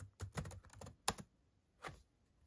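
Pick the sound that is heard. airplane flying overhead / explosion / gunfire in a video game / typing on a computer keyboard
typing on a computer keyboard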